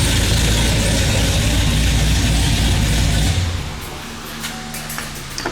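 A loud Chevrolet Camaro ZL1 with a Nickey Stage 2 setup idles in a shop with large fans running, a heavy, rough rumble that stops abruptly partway through, leaving quieter fan noise and faint clatter.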